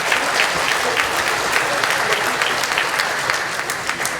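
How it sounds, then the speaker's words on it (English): A festival crowd applauds for a county clerk at the Hmong Wausau Festival, a dense, even roar of many hands clapping that stays loud and steady throughout. "We can give her a round of applause."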